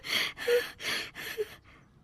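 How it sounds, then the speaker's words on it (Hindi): A person makes a series of four or five harsh, breathy rasps in quick succession, like a man clearing his throat, fading out at the end. "अपना गला साफ कर रहे हैं"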